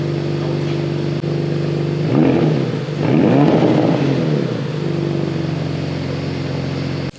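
A 2024 Porsche Panamera engine revved while parked, steady idle rumble broken by two sharp rising blips of throttle that swell loud and fall back to idle, recorded close with no talking.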